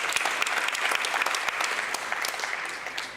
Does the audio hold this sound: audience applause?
yes